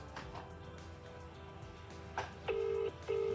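A call is placed on a mobile phone: a short beep sounds, then two steady calling tones pulse from the handset, close and moderately loud over quiet room noise.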